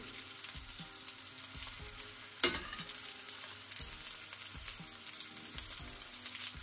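Onions and potatoes frying in oil in a home kitchen, a steady moderate sizzle with occasional sharper crackles and faint utensil taps, no voices.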